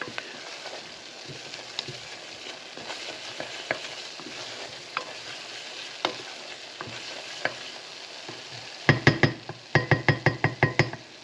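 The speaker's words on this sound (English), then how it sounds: "Now we're just trying to cook out that raw flour flavor from the roux." Flour roux with a bay leaf cooking in a pan while being stirred, a soft continuous sizzle with scattered scrapes, ending in a run of sharp rhythmic knocks of a spoon against the pan, no talk.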